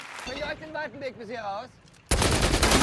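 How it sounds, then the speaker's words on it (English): Rapid gunfire from a scene in the film Inglourious Basterds erupts loudly and abruptly after a few seconds of speech, a dense sustained burst. "Lots of violence and gun shooting"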